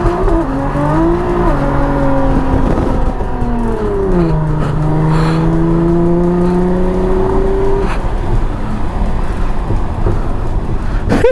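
Nissan GT-R launching hard at a drag racing event, its engine rising through the gears in loud, continuous revving with shifts and a brief dip before climbing again, close and dominant throughout.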